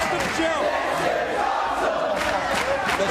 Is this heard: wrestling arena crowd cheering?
yes